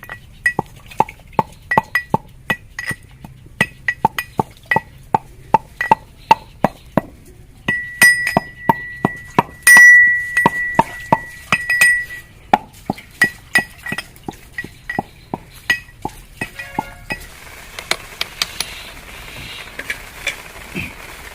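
Rhythmic pounding of fried spices in a mortar and pestle, sharp clinking strikes at a steady pace, close and fairly loud, with a brief scraping stretch midway and softer grinding toward the end, no talking.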